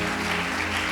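Church congregation clapping during an evangelistic sermon, a dense, steady wash of applause filling the whole second, with no clear talk on top.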